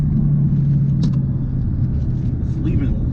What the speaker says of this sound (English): Car is not leaving hard enough.